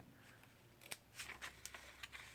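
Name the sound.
scissors cutting ribbon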